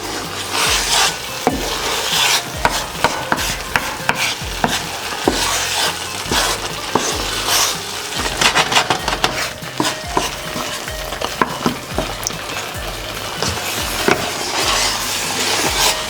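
Eggs are stirred in a circular motion into a hot menemen mixture of vegetables in a pan, with repeated close scraping and rubbing of a spoon over a low sizzle, loud and steady with no talking.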